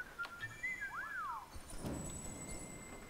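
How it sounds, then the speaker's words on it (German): A video game character in Fable 3 whistles a short rising and falling tune, a few clear swooping notes over faint ambient game sound. "lass uns pfeifen."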